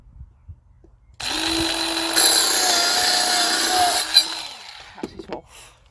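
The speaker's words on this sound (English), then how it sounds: "And then using trusty saw," A saw cuts through a small piece of wood for a tamper, making about three seconds of steady, close rasping with a strong tone, then a few light knocks as the offcut comes free.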